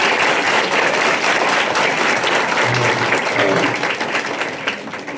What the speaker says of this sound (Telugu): మీ గట్టిగా చప్పట్లతో